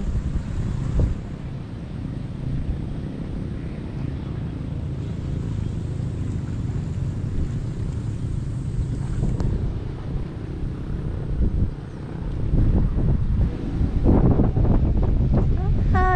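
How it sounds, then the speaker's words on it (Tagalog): A steady, dense roar of heavy rain over rice paddies fills the whole stretch, with wind buffeting the microphone and the noise swelling louder toward the end. "Kaya na nga po malakas na ulan."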